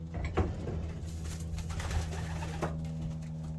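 Racing pigeons coo in a loft, soft repeated low coos close by, alone with no talk over a quiet steady hum.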